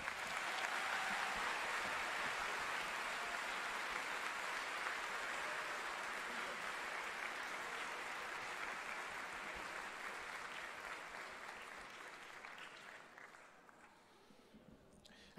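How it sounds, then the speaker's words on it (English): A large audience applauds steadily for the Kennedy Center staff at a TubaChristmas holiday tuba concert on the Millennium Stage, a dense wash of clapping that holds for about twelve seconds before thinning and fading out. "please give the Kennedy Center staff a round of applause"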